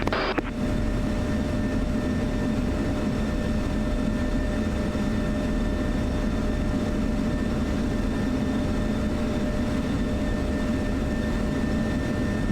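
Heavy C-17 transport aircraft engines roaring steadily as the plane rolls along a runway in a flight simulator game; a loud, continuous low rumble with a brief burst at the start and no talk.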